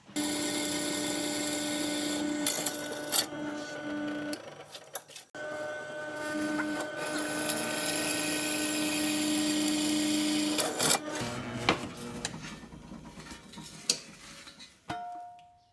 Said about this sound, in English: we're just gonna drill some holes in here so it's easier to come in and cut those